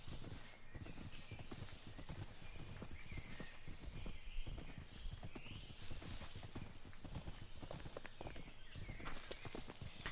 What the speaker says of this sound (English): Check it out, I have a zombie horse.